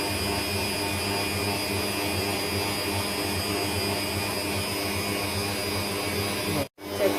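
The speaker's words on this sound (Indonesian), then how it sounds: "Kita akan mixer hingga dia benar-benar tercampur ya." An electric hand mixer runs steadily as it beats marbled coconut-milk cake batter, a loud, continuous motor whine that holds for most of the stretch before cutting out abruptly near the end.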